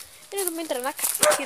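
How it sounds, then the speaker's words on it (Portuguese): Dogs bark at a farm, short yelps partly buried beneath someone talking close to the microphone. "Tem os cachorros latindo."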